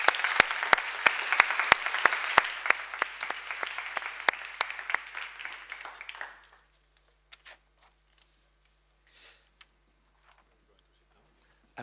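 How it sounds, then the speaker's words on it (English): A conference audience applauds panelists being called to the stage, dense clapping for about six seconds that then fades out, leaving a few scattered claps and small noises in a quiet room. "So please help me with a big applause to all our panelists."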